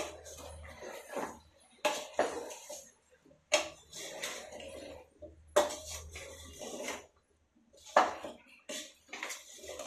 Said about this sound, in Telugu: ఇప్పుడు మళ్ళీ ముక్కలకు పట్టేటట్టు మొత్తం ఒకసారి కలుపుదాము